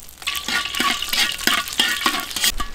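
Sichuan peppercorns frying in hot base oil in a wok, a steady bright crackling sizzle with rhythmic swells as they are stirred, close and fairly loud, no speech.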